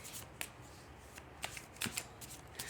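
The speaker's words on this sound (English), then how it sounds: "let's shuffle these cards" Tarot cards being shuffled by hand, a series of quick crisp riffles and flutters close by, quiet and without talk.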